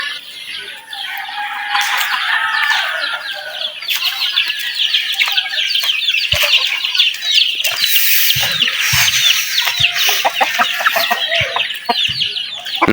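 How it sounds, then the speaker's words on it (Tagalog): Fighting roosters clucking busily and crowing nearby, with overlapping calls, occasional wing flaps and scattered thumps throughout. "Yan yung mga manok dito mga kabangka, mga panabong."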